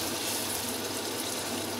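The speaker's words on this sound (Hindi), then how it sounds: "थोड़ा सा मैं पानी डालूँगी इसके अंदर" Water poured into a pan of frying tomatoes and spices for chicken pulao, heard as a steady broadband splashing hiss for under two seconds, close and alone without talk.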